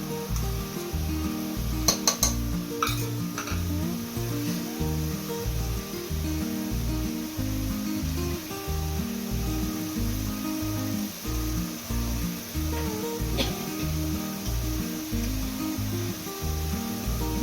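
Ground masala paste for a baby corn Chettinad masala sizzles steadily as it fries in a pan, a loud continuous crackle with a few scraping stirs near the start.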